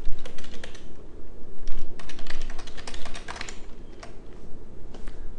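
A file name typed on a computer keyboard while saving a certificate backup to a USB memory device: quick, loud, close key clicks in an irregular burst, with brief pauses between flurries.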